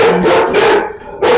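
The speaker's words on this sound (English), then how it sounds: "the dogs are barking" Dogs bark in quick, loud bursts close by, with short gaps between barks and nobody talking over them.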